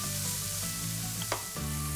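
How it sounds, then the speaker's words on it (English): Cauliflower stir-fry coated in sriracha hot sauce sizzles steadily in a hot pan as it is stirred, a close, continuous frying hiss with a brief scrape of the utensil partway through and no talking. "I'll just stir it around long enough for it to totally coat the cauliflower"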